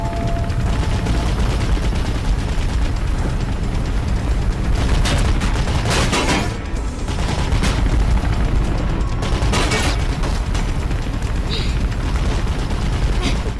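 Enemy gunfire in the Mirror's Edge video game, loud sustained bursts of automatic shots crackling over a dense, constant backdrop of game noise, with a few sharper volleys standing out.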